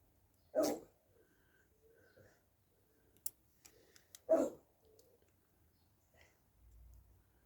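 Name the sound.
dog barking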